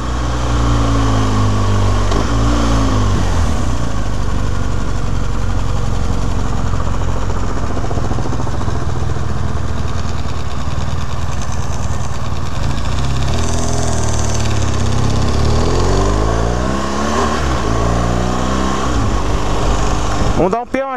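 A BMW 1200 motorcycle engine runs continuously, loud and close, its pitch rising and falling through several revs with a rough mechanical drone underneath, and a voice talks faintly beneath it.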